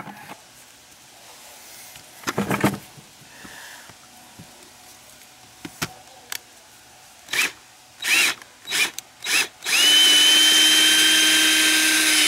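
A power drill loosens screws from an old outdoor sill faucet mounting, heard as several short whirring bursts with pauses before a longer steady run near the end.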